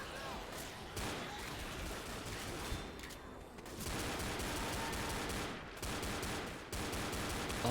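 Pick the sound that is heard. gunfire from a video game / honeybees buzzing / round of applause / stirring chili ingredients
gunfire from a video game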